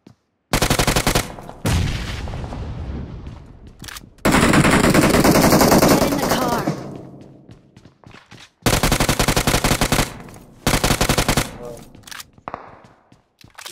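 Automatic gunfire in the mobile battle royale game BGMI, several long rattling bursts of rapid shots separated by short quiet gaps, loud and close.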